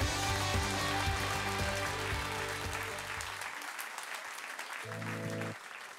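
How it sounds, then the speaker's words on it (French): Church congregation applauding during a family worship service, broad steady clapping that fills the space with sustained organ or keyboard chords underneath, fading partway before a brief swell of chords returns. "Est-ce qu'on peut applaudir cela?"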